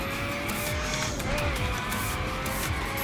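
Pagani supercar sliding on an icy, frozen mountain road, engine note rising and falling with tyre squeal and skidding, close and continuous for a few seconds with no talk.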